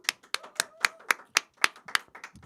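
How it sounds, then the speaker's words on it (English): A small crowd claps after the Scott Gorden Band's set at a Sunday social gathering. The claps are distinct and fairly evenly spaced, about ten of them, close by and moderately loud with no talk over them. "A big round of applause for that anyway."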